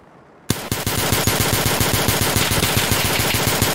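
Loud, close automatic gunfire in Escape from Tarkov, erupting suddenly and continuing as a rapid, evenly spaced stream of shots for several seconds, with no talking over it.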